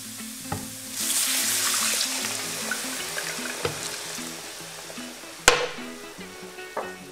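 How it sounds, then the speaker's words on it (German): Half a liter of broth poured into a pan of cornmeal roux that has been frying, bubbling and sizzling steadily with light stirring and a sharp clink near the end. "dann könnt ihr den halben Liter Brühe dazu geben"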